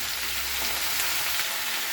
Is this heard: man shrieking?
no